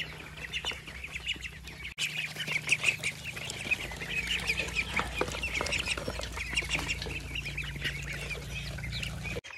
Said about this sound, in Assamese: সৰু হাঁহখিনিৰ দানা খোৱা হৈ গ'ল